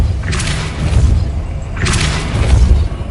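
Two heavy, deep booms with whooshing bursts land about a second and a half apart as a Depulso spell strikes in a Harry Potter video game, loud and close, with no voices.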